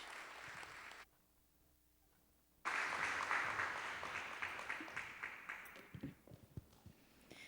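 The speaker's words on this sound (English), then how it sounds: "you can clap now" An audience at a talk breaks into applause after a brief quiet pause, the clapping starting suddenly and then continuing fairly loud before gradually thinning and fading.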